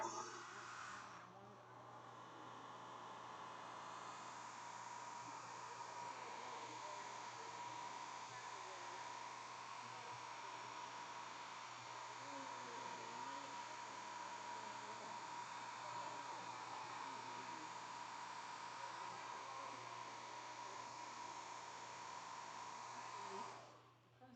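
A blow dryer aimed at wet watercolor paper gives a loud, steady whirring rush that switches on near the start and cuts off at the end, holding constant for over twenty seconds.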